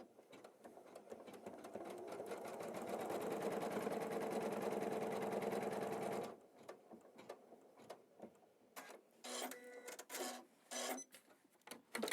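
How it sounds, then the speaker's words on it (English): An embroidery machine stitches a placement line on fabric held in a hoop, a loud steady mechanical whir for about six seconds that then stops, leaving quiet rustling and a few short clicks. "as we put our hoop back in the machine, it's going to stitch a placement line"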